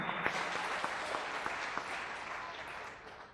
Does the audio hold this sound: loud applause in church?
yes